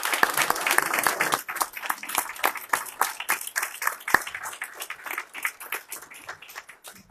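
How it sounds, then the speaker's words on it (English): A school district meeting audience applauds Kiwanis Club members and honored individuals, dense clapping that starts strong and gradually thins and fades toward the end. "So I'd like to give the Kiwanis Club and these outstanding individuals a round of applause"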